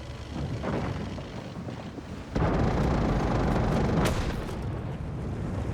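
A single booming shot from a video game tank gun, sudden and loud, followed by a sustained roaring rumble of engine and ambient noise.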